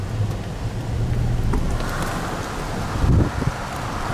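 Strong wind roars steadily across the microphone with rumbling gusts and buffeting, loudest near the end, and no voices.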